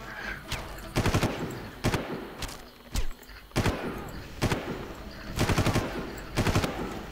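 Gunfire in the video game Far Cry: sharp bursts of rapid shots crack out in several clusters, loud and close, with single heavy reports between the volleys and no talking.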